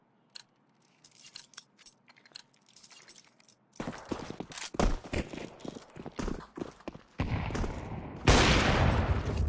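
Counter-Strike 2 match with sparse single shots at first, then dense bursts of rapid gunfire growing louder, ending in a loud continuous volley.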